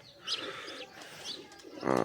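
Quiet pigeon coos and soft chirps come from nearby birds, and a voice cuts in briefly at the end.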